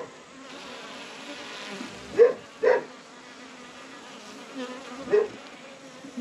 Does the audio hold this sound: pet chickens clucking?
no